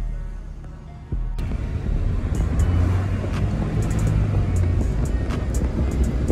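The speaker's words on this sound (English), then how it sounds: "This car drives so smooth compared to the EK." Car driving on the road, a steady low engine and road rumble that begins abruptly and holds near and loud, with faint higher noises now and then.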